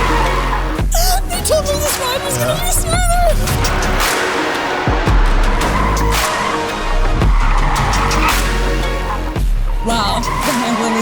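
A Mercedes CLA electric prototype corners hard, its tires squealing and skidding loudly in several drawn-out bursts over road and wind noise, with no engine roar.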